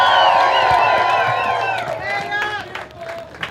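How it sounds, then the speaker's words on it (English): A town hall crowd on healthcare claps and cheers, with whoops and rising shouts over a broad wash of applause, voices mixed in throughout at close range. "So give yourselves another big round of applause."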